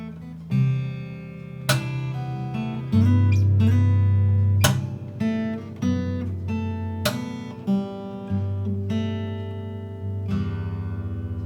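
Slow plucked harp guitar strings ring out in a gentle melody, deep bass notes sounding beneath brighter chords, each struck note sustaining and decaying into the next.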